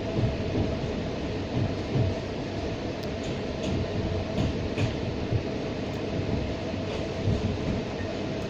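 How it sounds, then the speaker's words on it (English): A cross-country HST train passes Bramall, a long, dense rolling roar with rhythmic rail clatter and faint high clicks, held at moderate distance for several seconds with no voices. "then that same cross-country HST set passing Bramall"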